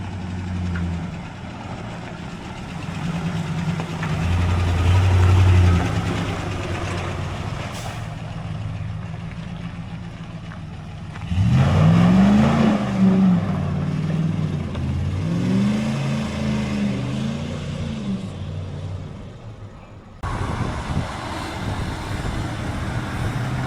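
A ZIL truck fitted with an American V8 engine idles and then accelerates from 0 to 60 km/h. The engine note rises in pitch through several gear pulls, loud and close, with a rumbling low drone between revs and no talk.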